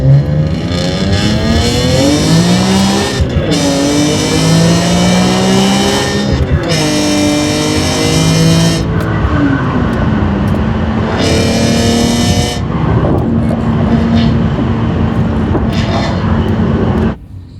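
A BMW E46 M3 Wagon with an S54 engine and Euro header, heard from inside the car, revving hard through repeated rising and falling sweeps with brief lifts between pulls, loud and close throughout.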